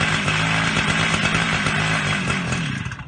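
A petrol engine runs in a steady, buzzing drone with a rough, raspy edge, close by and loud, tapering slightly at the end.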